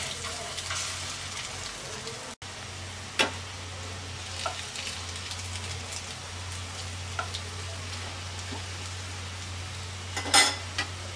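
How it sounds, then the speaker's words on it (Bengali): Lentil and prawn fritters fry in a kadai of hot oil with a soft, steady sizzle and scattered crackles and pops. A faint low hum runs underneath. "বাকিগুলো ভেজে নিচ্ছি।"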